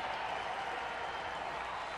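Stadium crowd at a Houston–Arizona baseball game cheering and applauding, a steady dense roar of many voices and clapping filling the whole moment without pause.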